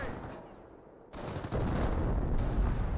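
Machine gun fire in the Company of Heroes 1 war strategy game: after a brief quieter lull, loud rapid bursts of automatic gunfire rattle continuously in the foreground of the battle.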